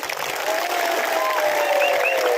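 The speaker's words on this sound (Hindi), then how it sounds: "रतीश बाबू को ताली दीजिए" A rally crowd applauds for Ratish Babu, steady dense clapping heard from amid the gathering, with a faint whistle or tone drifting over it.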